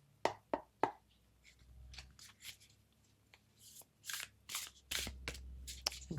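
Tarot cards are handled and shuffled nearby, with a few sharp snaps at the start followed by soft riffling bursts and papery slides, faint and intermittent against a quiet room.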